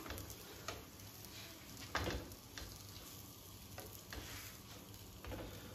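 Soft, faint sizzling of savoury crepes cooking in butter in a pan, steady and low with a few light clicks and taps, no talking.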